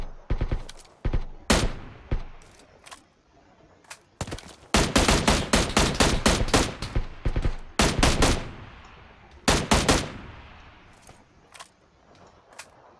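Video game gunfire from PUBG Lite: bursts of rapid, loud automatic shots in clustered volleys separated by short pauses, punchy and close, with no talking.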